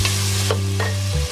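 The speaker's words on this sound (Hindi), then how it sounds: "साथ आप मिक्स करती रहें इसको" A potato and rice mixture is stirred in a hot pan with a continuous sizzling hiss and a couple of soft scraping strokes, under a strong steady hum.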